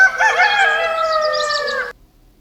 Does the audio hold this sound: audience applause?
no